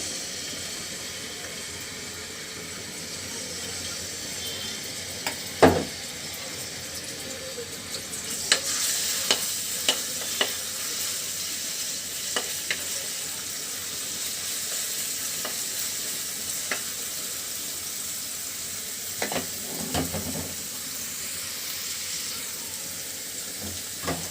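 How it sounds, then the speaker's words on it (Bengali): Crushed garlic fries in hot oil, a loud steady sizzle that swells noticeably partway through, with occasional clinks and scrapes of a stirring utensil against the pan. "তেলের ভিতরে দিয়ে দিব হলো থেতো করা রসুন"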